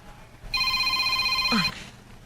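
A phone rings with an incoming call: one bright, steady electronic ring lasting about a second, close and clear over a quiet background, ending with a short falling chirp.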